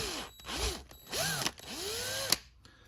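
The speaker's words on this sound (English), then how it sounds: "Get this last one drilled here." Small power drill boring a hole in a 1/64 scale John Deere model, several short close whirring bursts with pitch sweeping up and down as the motor starts and stops.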